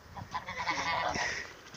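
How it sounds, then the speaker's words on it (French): A flock of fourteen geese honks nearby, overlapping loud nasal calls in a short burst. "il y a 14 oies"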